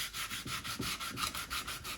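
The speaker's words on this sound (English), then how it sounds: "now I just want to use some 80 grit Swiss sandpaper and just hand sand." Rhythmic back-and-forth rasping of 80-grit sandpaper on a carved wooden duck decoy, steady hand-sanding strokes about five per second, close and soft.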